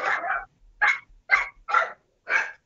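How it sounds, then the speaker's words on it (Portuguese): A dog barks five times in quick, uneven succession, each bark loud and close, with short silent gaps between them and no talking. "Seu cachorro eu consigo escutar."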